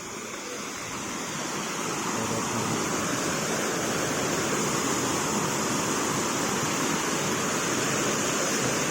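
Water pours over a dam after rain in a loud, steady, broadband rush that stays constant and close throughout, with no voices.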